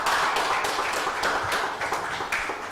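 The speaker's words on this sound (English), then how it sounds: "Please let's give you a louder round of applause." An audience at a youth parliament session claps, with a group of hands producing rhythmic, roughly evenly spaced bursts of clapping, fairly close and loud, with no talking over it.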